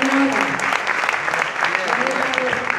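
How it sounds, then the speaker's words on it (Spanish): An audience applauds loudly at the Premios Romeo Gavioli 2019 awards ceremony, a thick, continuous burst of clapping mixed with voices and cheers from the crowd. "Un aplauso."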